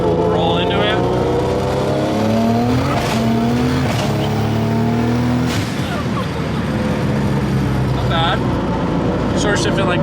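A Barra-engined Ford GT350 street car pulls hard in third gear, its engine roaring loud and close with rising revs and tyre squeal as the wheels spin, while people talk over it.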